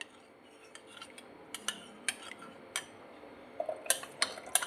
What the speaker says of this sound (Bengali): এটা একটু ভালো করে নাড়িয়ে নেব।